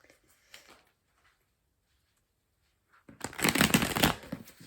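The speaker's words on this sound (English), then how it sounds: "Oh, that was a terrible shuffle, let me do that again." Tarot cards are shuffled close by, a quiet riffle first, then after a pause a longer, louder burst of shuffling.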